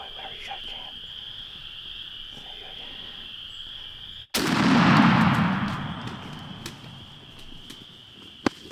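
A single loud shotgun blast during a turkey hunt cuts through a quiet outdoor backdrop of steady insect and frog chorus, its boom rolling off over a few seconds before the calm returns.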